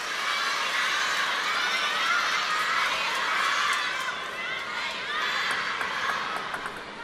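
A crowd at a women's table tennis semifinal shouts and cheers loudly after a point, a broad, continuous roar with scattered whoops that swells and dips over several seconds.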